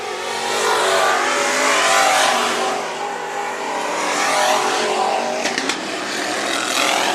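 Sport Mod race cars roar around Bakersfield Speedway during a heat race, a loud continuous pack of engines howling at speed, with rising and falling surges as cars pass close by.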